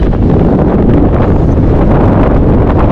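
Strong cold wind buffets the microphone high in the Mustang mountains, a loud continuous low roar with gusty rushes and no voices.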